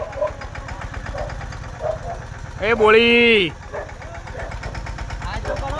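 A tractor engine idles with a rapid, steady low chugging pulse throughout, while people talk nearby; partway through, a brief loud tonal blare rises and falls over the engine.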